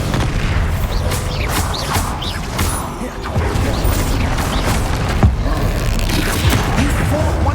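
Spell blasts and explosive impacts from Hogwarts Legacy combat boom repeatedly in a dense, loud, continuous clash, with shouted spell incantations over the top.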